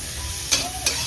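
Ridge gourd frying in a pan with a little salt and turmeric, a steady soft sizzle broken by two brief stirring scrapes, close and alone with no talk.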